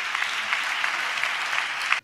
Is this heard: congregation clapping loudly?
yes